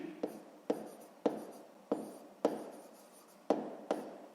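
Pen writing a math answer on paper, repeated strokes in a steady rhythm of short scratchy bursts, each starting sharply and fading, close and quiet with no voice.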